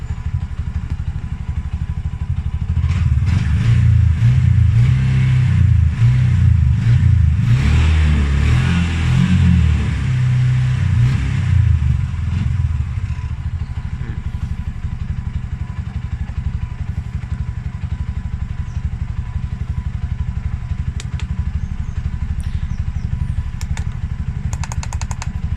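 A Bajaj EFI three-wheeler engine idles, then revs under the accelerator during a home scan. It rises to a loud, close rumbling roar for several seconds, falls back to a steady idle chug and carries on, with no speech.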